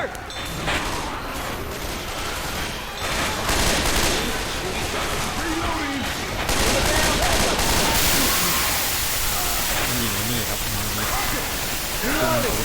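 Dense gunfire in the video game Left 4 Dead 2 crackles in continuous bursts over a noisy game soundtrack, loud and close throughout.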